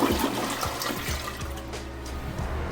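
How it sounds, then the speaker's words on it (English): A Niagara toilet flushing in a hotel bathroom, a loud steady rush of water with gurgling as the bowl drains and refills, close and uninterrupted. "Let's make sure it flushes right."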